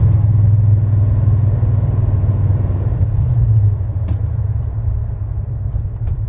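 A 1968 Plymouth Road Runner muscle car's engine running, a deep steady low rumble at close range that eases slightly partway through.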